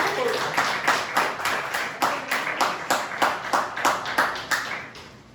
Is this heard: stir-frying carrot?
no